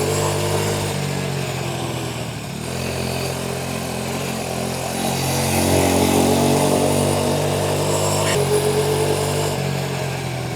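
A cheap $260 Amazon motorcycle's small engine runs continuously close by, a buzzy, steady drone that dips briefly and then swells as the revs rise before easing back.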